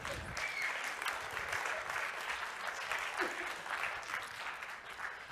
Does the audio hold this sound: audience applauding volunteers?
yes